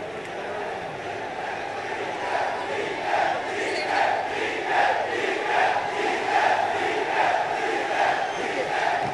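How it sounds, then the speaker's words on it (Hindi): A large crowd at a swearing-in ceremony in Karnataka chants slogans for D.K. Shivakumar, a steady, loud mass of voices rising and falling in rhythmic waves throughout. "जिस वक्त डी के शिव कुमार मंच पर पहुंचे उस वक्त भीड़ से डीके के नारे भी लगे थे।"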